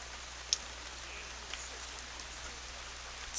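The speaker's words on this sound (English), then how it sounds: "the rain gets a little bit harder now" Heavy rain pours steadily over an outdoor baseball game, a continuous broadband hiss with a few sharp drip or tap accents, no voices.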